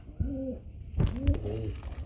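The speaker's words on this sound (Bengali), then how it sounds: "রব্বানি লাইনের কবুতর" Pigeons at a market coo close by in soft, low throaty phrases, two or three calls overlapping, with a light rustle behind them.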